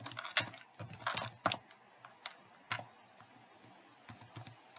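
Typing on a computer keyboard while entering an email and password in a student account sign-up, quick irregular key clicks in short bursts with pauses, close and fairly quiet, no talking.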